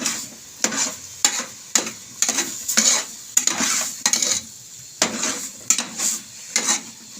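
Palak gosht, a spinach and meat curry, being stirred in a cooking pot, with a spoon scraping and clattering against the metal in a steady series of strokes, close up and moderately loud over a faint sizzle.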